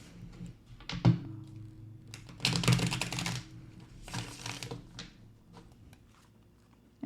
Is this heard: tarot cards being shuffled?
yes